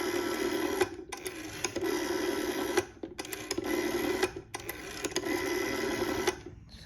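Rotary dial of a 1957 GEC 400 Bakelite telephone turning after a light oiling, giving bursts of fast mechanical whirring and clicking separated by short gaps, close and moderately loud.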